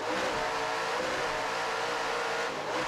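A 39-foot Extreme class race boat's engines roar at the start of a powerboat championship race, a dense, loud, continuous drone with no voices over it.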